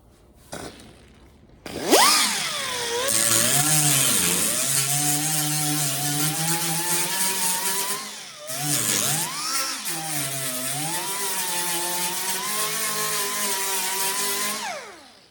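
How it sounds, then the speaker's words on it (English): A pneumatic air die grinder grinds the tops off welds during rust repair on an International Loadstar truck, in two long, loud, steady whining runs with a brief dip between them and no talk. "it's probably going to get a little loud, because I got my air die grinder."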